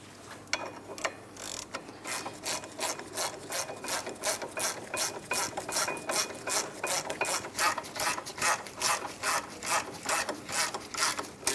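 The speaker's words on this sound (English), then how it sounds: "I'm going to snug it up and then torque it to 81 foot-pounds" A hand ratchet snugs up the brake caliper bracket bolts on a 2011-2026 Mitsubishi Outlander, giving a steady run of close, sharp clicking pawl strokes with a short pause near the start, no talking.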